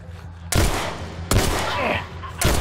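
Gunshots in The Last of Us: Left Behind, three sharp loud blasts spaced roughly a second apart, each trailing off in a noisy echo.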